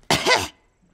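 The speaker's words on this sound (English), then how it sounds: "A slight cough, madam." A single short, sharp cough sounds close by and alone, then trails into quiet.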